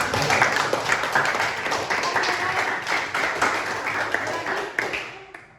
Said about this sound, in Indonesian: Tepuk tangan lagi dulu.